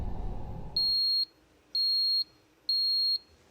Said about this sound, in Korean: 알람이 또 울리는 겁니다.